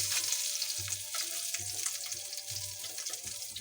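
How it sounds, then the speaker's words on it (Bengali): Small pieces of fish fry in oil in a pan, a close, steady spitting sizzle with soft, regular low knocks beneath it and no talking. "এটা আমি একটু ভেজে নিচ্ছি"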